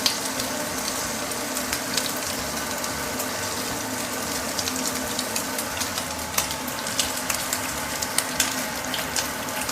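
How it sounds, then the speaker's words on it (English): Oil spatters hard in a frying pan while the fat for a spaghetti carbonara cooks, a steady broadband sizzle with frequent sharp pops and crackles flaring up close throughout, and no talking. "There's a lot of oil, it's like shooting around everywhere."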